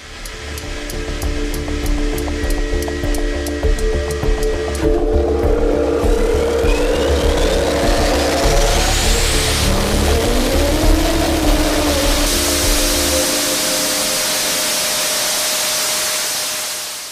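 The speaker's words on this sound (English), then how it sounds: "Mustafa Varang shared the record-breaking test video of the TEI TJ300 engine on his Twitter account." A TEI TJ300 turbojet engine roars through a record-breaking test run, a loud continuous rushing blast layered with whining tones that shift and sweep in pitch, sustained throughout before easing slightly at the end.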